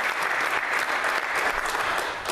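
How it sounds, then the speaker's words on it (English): An audience applauds performers after a song in a church spoken-word service, a dense, steady wash of many hands clapping throughout, fairly loud and close, with no voices over it. "Can we give them one more round of applause?"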